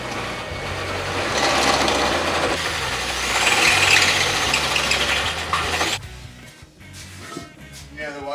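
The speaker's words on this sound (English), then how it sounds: "start drilling out the rest of the holes in the inner part" A power drill whirs loudly and continuously for several seconds, grinding steadily as it drills holes in a metal beam, then cuts off abruptly leaving quieter background noise.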